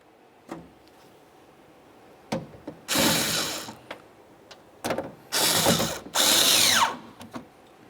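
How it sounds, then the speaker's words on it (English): A power ratchet tightens the clamshell bolts that clamp the window glass to a replacement front power window regulator on a 2005-2010 Chevy, in three loud whirring bursts separated by quieter clicks and handling noises. "Let's move along to tightening up those clamshells that hold the window to the regulator."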